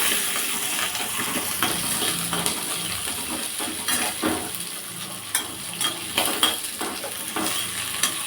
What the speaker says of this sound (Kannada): ಇದಕ್ಕೆ ಹಸಿಮೆಣಸಿನ್ಕಾಯಿ ಹಾಕೋತಾ ಇದ್ದೀನಿ ಹಾಗೆ ಈರುಳ್ಳಿ ಇದನ್ನು ಸ್ವಲ್ಪ ಫ್ರೈ ಮಾಡ್ಕೊಳ್ಳೋಣ